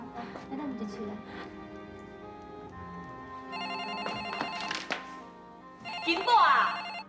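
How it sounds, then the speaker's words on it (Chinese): A telephone rings in an indoor drama scene, its bell repeating in bursts at moderate loudness while people talk over and around it. "金宝啊，你人伫遮哪无爱接电话啦？"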